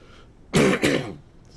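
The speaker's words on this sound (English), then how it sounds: "That's not me coughing for once, but it's making me want to cough." A character in the video game Heavy Rain gives a short, close two-part cough or throat clear, heard alone with nothing else.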